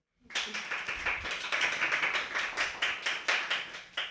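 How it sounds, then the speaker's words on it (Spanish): A small studio audience claps for a guest, a sociologist, on a talk show, with rhythmic, fairly close, moderately loud clapping that starts abruptly and keeps going steadily throughout. "para quien quiera un aplauso, por favor"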